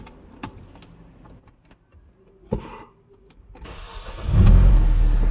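A Mercedes CLK W209 is started with its alarm and tracking system disabled: some clicks and small mechanical knocks come first, then the starter cranks and the engine catches into a loud, steady idle close by.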